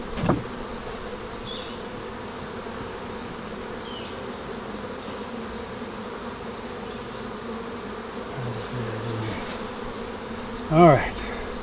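Honeybees buzz around a hive in a steady, dense drone, moderately loud and close, with a few brief knocks and a louder pass near the end.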